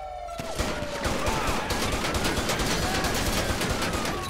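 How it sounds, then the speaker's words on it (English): Gunfire in a street shootout in the video game GTA San Andreas: rapid bursts of shots crackle continuously and loudly, layered with game effects and a brief tone at the start. "He's shooting. We got a shootout out here in Lake Vinewood Drive."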